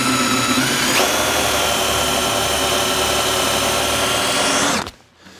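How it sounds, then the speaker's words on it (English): A power drill bores steadily into metal while working on a snowblower, giving a loud continuous whine for nearly five seconds that stops abruptly. "drilling in the metal, you want to have a really good drill bit for this."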